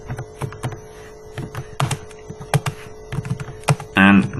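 Code being typed on a computer keyboard: irregular close key clicks and taps over a faint mains hum, ending with a louder burst of clatter.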